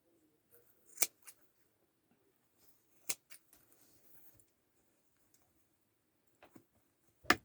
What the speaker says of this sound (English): now all I have to do is go through the loops and cut them